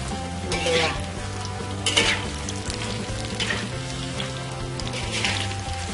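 Tempeh mendoan frying in hot oil, a steady loud sizzle with bursts of crackling and occasional stirring scrapes throughout, with no voices.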